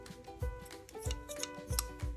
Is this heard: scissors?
yes